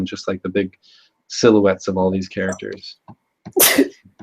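A single sharp sneeze bursts out near the end, following a stretch of a person talking in a quiet room.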